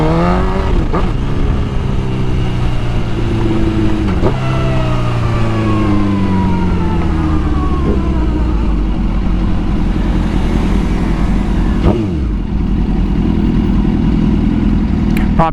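Motorcycle engine while cruising, loud and close, with rising and falling engine pitch as it shifts gears and accelerates, steady wind rush underneath and no talking.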